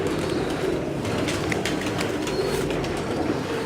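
Pigeons kept by a fancier coo softly over a steady, dense background hum, with a few brighter chirps scattered throughout and no voices.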